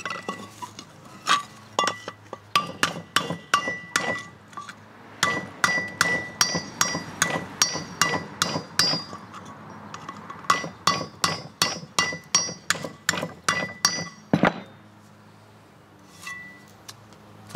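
A hammer tapping an outboard propeller on a propeller anvil, for an Evinrude 30 HP motor: dozens of sharp metallic clinks in steady rhythmic runs, loud and close, with brief pauses between bursts.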